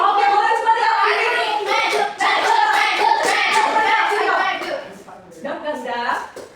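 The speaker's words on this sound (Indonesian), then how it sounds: "Coba kita tepuk semangat dulu." A primary school class does the tepuk semangat clap chant, young voices chanting loudly together over quick rhythmic claps, with a short lull near the end before the chanting resumes.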